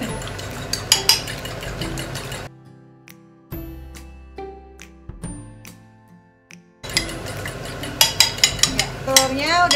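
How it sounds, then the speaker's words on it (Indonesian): Eggs beaten in a bowl for a Malang-style tofu omelette, quick rhythmic clinks and scraping at the start and end, with a quieter stretch of sparse taps in the middle. "Telurnya udah dikocok."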